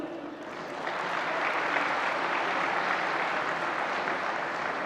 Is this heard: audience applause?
yes